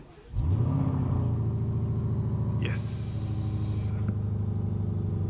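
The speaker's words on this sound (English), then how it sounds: "we will be firing up the V8, 4-liter V8, 666 horsepower" A 2024 Lamborghini Urus S with its 666-horsepower 4-liter V8 fires up with a sharp starter burst, then settles into a loud, deep, steady idle rumble close by, with a brief hiss partway through and a short spoken word at the start.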